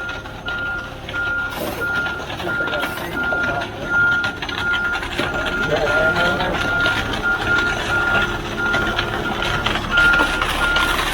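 Truck backup beeps repeat at a steady, regular pulse over a constant engine rumble and outdoor background noise, with people talking nearby throughout.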